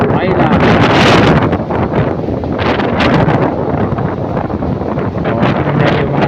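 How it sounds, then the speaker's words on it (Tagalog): Strong wind and rain on Tubabaw Island, Giwan, a steady loud roar of gusts and rainfall buffeting the microphone, rising and falling continuously without a break. "Malakas yung ulan at saka yung hangin."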